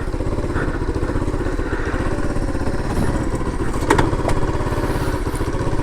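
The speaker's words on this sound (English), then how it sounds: "So let's see how this bike rides. The SYM Symba 100, based on the run out of the Honda Cub or Honda Super Cub." SYM Symba 100, a 100cc semi-automatic Honda Super Cub replica motorcycle, riding along with a steady, buzzy small-engine drone close up, plus some wind rumble and a few light clatters, no talk.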